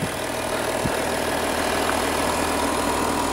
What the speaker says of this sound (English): I think it sounds good for a diesel.